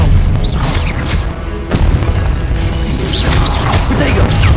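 Spellcasting in Hogwarts Legacy, with the Expelliarmus disarming spell unleashing loud, dense magical booms and crashing impacts in a steady barrage, with swooshing effects and a voice shouting over the chaos.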